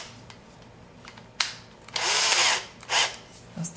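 Cordless drill spinning a countersink bit to bevel the edge of a hole in a portable amplifier build, heard as a brief burst followed by a sustained whirring run of about a second and a shorter second burst, close and loud.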